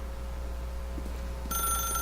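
A telephone rings in The Stanley Parable, a bright electronic ring that starts partway through and stays loud and steady over a low constant hum.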